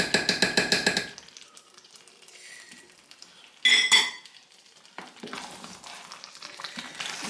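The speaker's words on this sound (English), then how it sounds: "use my potato mash to mash some like this" A potato masher works through yam pottage in a metal pot, giving a burst of rapid rhythmic clanks, then softer scraping and thick squelching with another loud metallic clatter midway.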